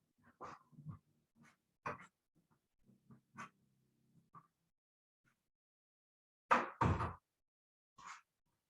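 A small dog whimpering indoors, giving several faint, short whines spaced irregularly, then a louder pair of thumps near the end, with quiet stretches between.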